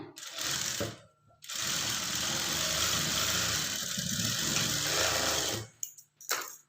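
A sewing machine runs a top-stitch along a folded blouse patti: one brief burst, then a long steady whirring run of about four seconds, then short stop-start bursts at the end, close and clear.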